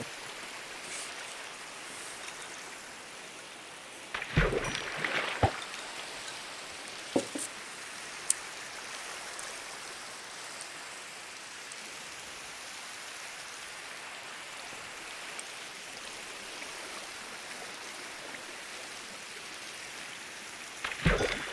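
Minecraft rain falls as a steady, soft hiss of noise that runs the whole length, with a few brief clicks and rustles surfacing now and then.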